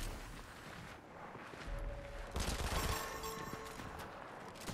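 An enemy turret in Fortnite fires a steady stream of rapid shots, growing louder midway and sustained to the end, with game effects layered over it.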